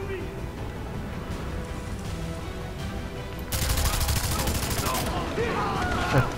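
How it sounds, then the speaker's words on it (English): Rapid bursts of automatic gunfire in the video game Far Cry 3 erupt loudly partway through, dense and sustained over background game noise, with a voice talking over it. "I'm running out of ammo with this gun."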